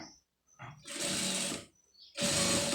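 A sewing machine stitches an embroidered blouse in two loud bursts of running motor and needle chatter, separated by brief pauses and quieter handling.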